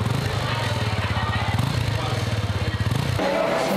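Honda XRE 300 Sahara motorcycle engine revving in short rhythmic pulses, close and moderately loud, with a brief shift in tone near the end.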